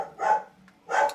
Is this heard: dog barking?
yes